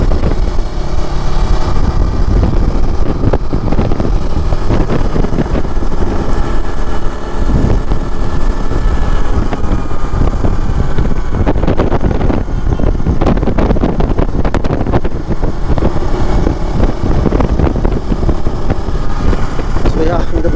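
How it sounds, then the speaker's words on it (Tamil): Motorcycle engine cruising smoothly on a test ride, a steady loud drone mixed with heavy wind buffeting across the whole stretch, with someone talking over it. "அந்த க்ரூஸ் பண்ணுறதுக்குலாம் இன்ஜின் செம்ம ஸ்மூத்தாக செம்ம ரிஃபைன்மெண்ட்டா"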